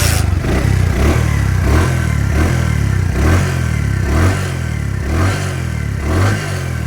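A Bajaj Platina motorcycle with a good battery runs close by in Bogura, Bangladesh, its engine thrumming loudly and steadily with rhythmic revving pulses roughly every 0.7 seconds and no voices.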